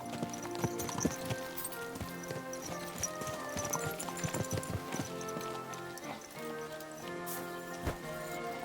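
Horse hooves clip-clopping in the medieval video game Kingdom Come: Deliverance II, a steady walking rhythm of hoof strikes heard close, with tonal game music running underneath.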